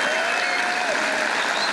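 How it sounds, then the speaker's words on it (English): Audience at a fan Q&A with Tito Ortiz at UFC Sweden applauds steadily throughout, a dense, even wash of clapping from a sizable crowd, fairly close and continuous. "So please give yourself a big round of applause"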